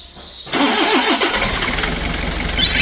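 Toyota Vigo pickup with a 2KD diesel engine cranks briefly, then catches and settles into a loud, rough, clattering idle, close up with no talking.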